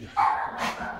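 A bull terrier gives one short, loud bark up close, followed by a brief whine.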